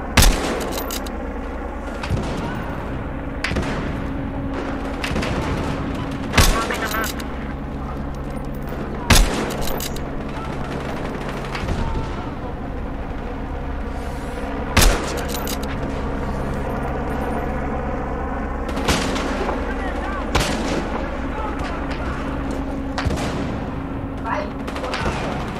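Rapid bursts of SMG or PDW fire in the video game Battlefield Hardline during a team deathmatch, loud repeated volleys and sharp shots over a constant engine-like drone, with a player talking throughout.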